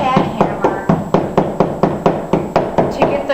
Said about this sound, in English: grab either your regular hammer or your tack hammer